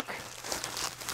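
Bubble wrap is crinkled and peeled away from a small Sharp pocket computer, a brief close burst of soft plastic rustling and crackling.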